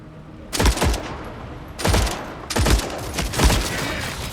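Bursts of game gunfire in Forever Winter 2 crack out in several separate volleys, some close and loud with sharp echoing tails, while a steady background hum runs underneath.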